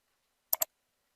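A computer mouse gives a quick double click, crisp and close, in otherwise near silence.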